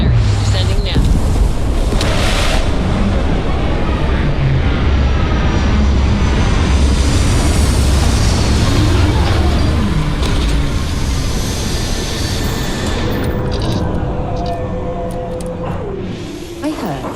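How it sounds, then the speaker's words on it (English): Spaceship thrusters fire in the Starfield video game, a loud, continuous roaring rush with a deep rumble underneath that eases slightly toward the end, with a voice speaking over it. "Thrusters firing."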